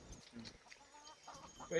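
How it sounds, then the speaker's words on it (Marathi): A large hen clucks faintly in a farmyard, with a few soft, short clucks toward the end under low background noise and nearby voices. "ही जी मोठी कोंबडी आहे ना हिला विकूच नका लय मस्त आहे ही कोंबडी"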